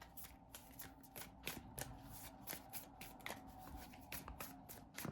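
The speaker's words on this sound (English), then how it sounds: "Shuffle." Pokemon trading cards are shuffled by hand in quick riffling bursts, close and fairly quiet, with crisp slaps and flicks repeating at an uneven rhythm.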